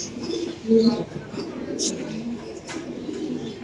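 Low pigeon cooing rises briefly and loudly near the start, then continues softly at a pigeon seller's loft, under faint voices and handling noise.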